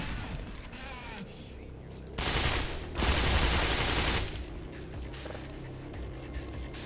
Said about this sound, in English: I keep loading in and accidentally shooting.